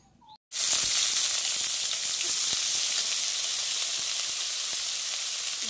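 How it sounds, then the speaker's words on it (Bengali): Eggplant added to hot oil for a loitta fish dish bursts into a loud, dense sizzle after a short quiet moment, then crackles steadily and close with small pops. "এবার বেগুনটা ভাজতে দিয়ে দেবো।"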